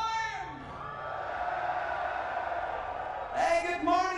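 A metal festival crowd at Bloodstock 2012 roars and whoops from a distance, a sustained wash of cheering under shouted voices, swelling again near the end.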